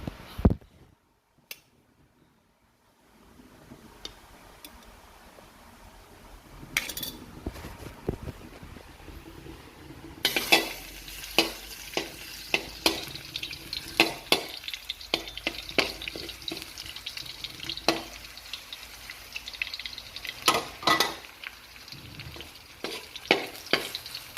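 Garlic and long green eggplant stir-fry in hot oil, with a quiet start before a loud, continuous sizzle takes over, broken by frequent sharp scrapes and clatters of a utensil stirring close up.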